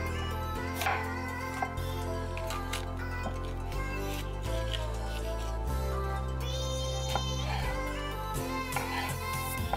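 A knife dices red pepper on a cutting board, for a Mexican salsa: soft, quick chopping taps scattered over steady background music, fairly quiet and close.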